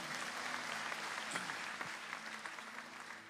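A church congregation applauds at a Myanmar sermon service, a steady even patter of many hands clapping, fairly faint and distant in the room, without speech over it.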